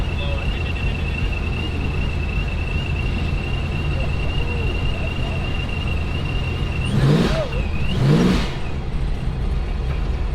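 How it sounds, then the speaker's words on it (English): A drag racing car at an outdoor drag racing and show event gives two quick throttle whacks near the end, rising and falling revs over a steady background whine and crowd noise. "That sounds so good, man. That throttle whack."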